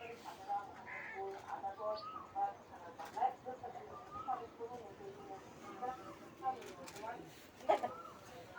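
Pigeons at a small farm coo softly while feeding their young, with chickens and roosters nearby, as faint bird calls come and go beneath a person talking throughout.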